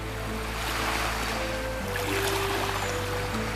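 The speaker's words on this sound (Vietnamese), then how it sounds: "Làn nước trong xanh, rồi có sóng nhẹ vỗ vào bờ, tạo thành những âm thanh êm dịu." Small waves lap against the shore of a clear lake in a continuous, gentle wash with a faint breeze, and no one speaks.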